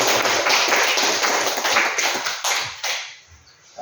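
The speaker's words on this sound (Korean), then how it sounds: "자, 축하의 박수 한번." A church congregation claps together in a steady burst of applause after a baptism, tapering off toward the end, with no talking over it.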